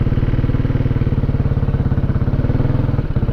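A maxi scooter's engine runs after a hard start, a fast, even chugging pulse close to the mic, loud and steady, with a slight change near the end.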